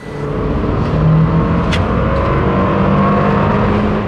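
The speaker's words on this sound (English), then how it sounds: "If there's one word to describe how this engine sounds, it's broken." A four-cylinder engine in a 2024 Toyota Land Cruiser revs loudly and close, a strained, buzzy drone that holds steady throughout.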